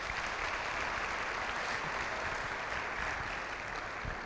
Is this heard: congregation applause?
yes